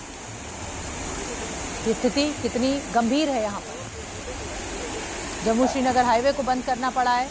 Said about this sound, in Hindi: ये सड़क के ऊपर पानी बह रहा है